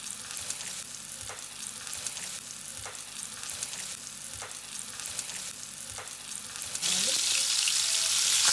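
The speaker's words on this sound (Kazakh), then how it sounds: "Орташа отта сарғайғанша қуырыңыз." Carp pieces fry in a pan over medium heat with a continuous close sizzle and regular soft taps of stirring, swelling into a louder, brighter hiss toward the end.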